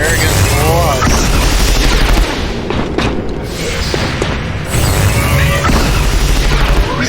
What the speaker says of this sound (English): It's time for more Overwatch fire against the Lost.